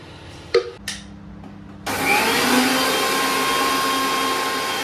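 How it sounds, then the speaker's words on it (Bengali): An electric grinder whirs on with a loud, steady high-pitched hum as poppy seeds are ground into paste, after a couple of brief clunks. "পুরো পোস্তটাই বেটে নিই।"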